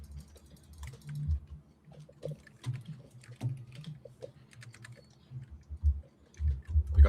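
Keyboard typing at an esports event, a rapid run of soft clicks and clacks heard close, mixed with low muffled room rumble and a few heavier key thumps.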